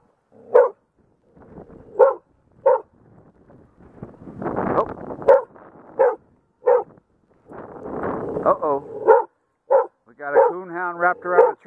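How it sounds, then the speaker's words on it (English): A dog barks repeatedly at driftwood in a river, in sharp bursts, some spaced apart and some in quick runs, with wind noise rumbling between barks outdoors. "Still barking at the dang log."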